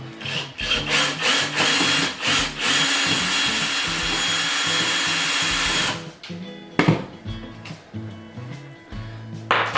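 A power drill whirs in steady bursts, then runs continuously for several seconds before stopping and restarting in short pulses, close and loud, driving cabinet hardware screws.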